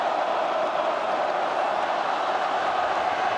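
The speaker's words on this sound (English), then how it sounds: "Collingwood crowd finding voice" A dense, steady roar rises from the Collingwood crowd at a 2011 AFL qualifying final against West Coast, a distant, unbroken wash of voices filling the stadium.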